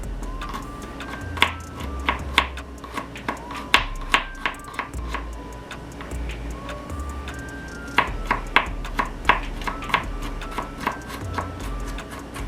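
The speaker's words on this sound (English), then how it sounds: "I'm just going to chop up my garlic" Garlic chopped into pieces with a knife on a cutting board, a steady run of crisp close knocks in uneven bursts while water heats in a pan nearby.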